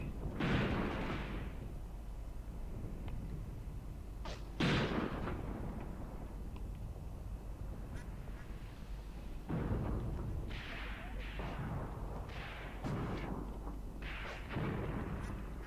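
Anti-tank guns fire in the Graviteam Tactics Kharkov 1942 war game, a series of sharp booming shots spaced irregularly, moderately distant, with rumbling echoes between them.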